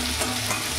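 Green chili paste sizzles in a hot pan while it is stirred. The frying hiss is close and constant, with soft scraping swells from the stirring and no talking.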